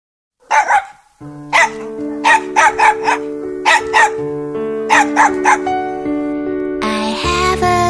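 A dog barks in short repeated bursts, about a dozen yips and woofs spaced through a cheerful children's song with sustained musical tones underneath.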